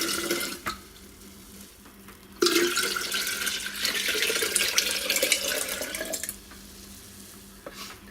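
Liquid for homemade kombucha pours into a 3 litre glass jar in one steady splashing stream lasting a few seconds, with quieter handling sounds before and after.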